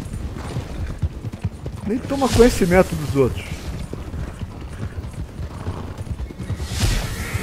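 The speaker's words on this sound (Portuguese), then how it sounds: "Olha meu cavalo dando um show aí" Horse hooves clip-clopping with a whinny from a Norfolk Roadster horse racing in Red Dead Online, a rhythmic gallop with a neigh near the middle, under a voice talking.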